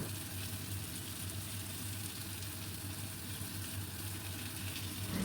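Potatoes and jackfruit seeds fry over a medium flame with salt, turmeric and Kashmiri red chilli powder, a faint steady hiss of sizzling oil running unbroken throughout, with no voices.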